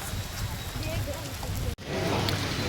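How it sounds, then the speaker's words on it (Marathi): Heavy rain pours steadily in the open near Marine Lines in Mumbai, a dense broadband hiss that runs throughout and pauses only for a split second near the end. "भरपूर पाऊस पडते, भरपूर. बघा समोर बघा पाऊस बघा."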